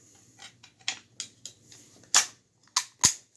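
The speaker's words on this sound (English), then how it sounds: "Then we put the dust cover on." Dust cover of a Saiga 12 shotgun being fitted back on, a few light metallic clicks and taps building to three sharp, loud snaps near the end, close by with no speech.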